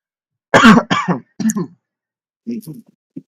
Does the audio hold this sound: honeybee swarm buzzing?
no